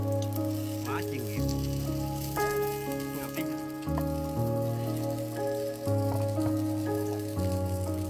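Thinly sliced sweet potato coated in store-bought crispy batter mix deep-frying in oil at home, a steady soft sizzle running underneath louder, continuous music with sustained tones for the whole stretch.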